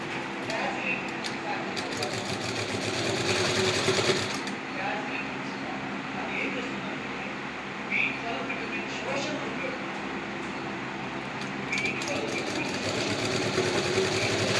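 A sewing machine stitches a belt onto a middy dress, running as a steady mechanical whir with a couple of brief pauses and changes in speed, while someone talks over it.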